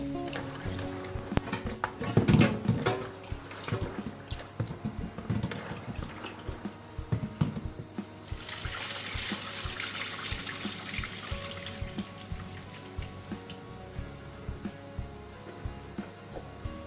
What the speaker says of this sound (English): I will now rinse the beans with clean water.